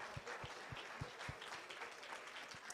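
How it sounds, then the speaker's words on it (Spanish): Audience applause at a Spanish-language talk or church-style gathering: a steady wash of clapping from a room full of people, moderately loud, with a few sharper claps standing out and no voices over it. "un aplauso para ustedes"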